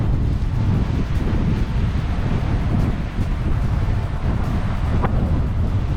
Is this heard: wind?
yes